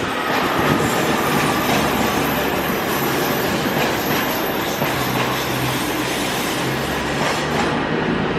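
A Class 220 Voyager diesel unit on a Cross Country service pulls out of Leeds station, its steady engine drone and rolling wheel noise filling the platform loudly and continuously throughout.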